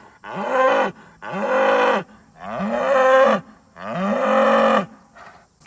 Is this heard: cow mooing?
yes